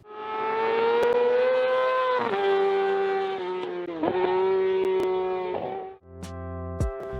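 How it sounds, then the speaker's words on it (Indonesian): A Yamaha R6 sport motorcycle with an inline-four engine holds a loud, high-pitched rev for about six seconds, dipping and climbing briefly twice, then drops sharply toward idle. "ini adalah suara motor Yamaha R6 yang menggunakan mesin inline-4"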